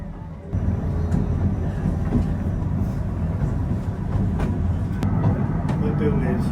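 A train on the Lynton and Barnstaple Railway rumbles steadily with a dense low-frequency roar and occasional clanks, while someone talks over it.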